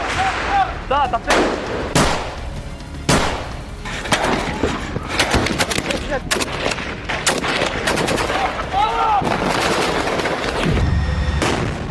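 Gunfire in the Gaza war: close, dense machine-gun rattles and heavy booming shots repeat throughout, with little pause between bursts.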